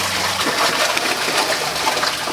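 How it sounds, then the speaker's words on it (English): Water splashing and gushing steadily as catfish thrash out of the water, a continuous close wet spatter lasting the whole moment. "Catfish are coming out of the water."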